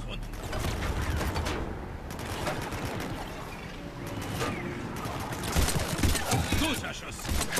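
Bursts of gunfire from Mass Effect 3 video game crackle amid loud battle noise and mechanical clatter. The firing is rapid and near, and the din runs continuously with brief swells.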